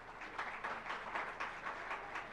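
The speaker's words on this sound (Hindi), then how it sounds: "जोरदार तालियां" Applause from an audience at a Jain religious gathering, a crowd clapping in rhythmic waves that swell and dip steadily throughout, moderately loud with no voices over it.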